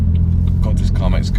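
BMW M4 Competition engine pulling while driving, a steady loud low rumble heard from inside the cabin with a person talking over it.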